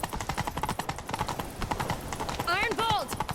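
Horse hooves clip-clopping at a steady gallop in The Witcher 3: Wild Hunt as riders chase someone, rhythmic hoofbeats with a brief neigh near the end and voices talking over them.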